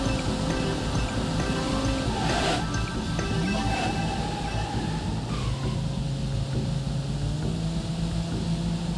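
Rushing water in BeamNG Drive surges around a vehicle, a steady broad wash of surf-like noise with faint engine tones weaving through it, loud and continuous for the whole stretch.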